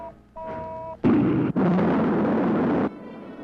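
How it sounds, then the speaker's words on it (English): The second stage of a rocket fires with a sharp, loud blast, then a roaring burst that runs for about two seconds before cutting off, preceded by a brief tone. "Rocket 1, second stage. Fire."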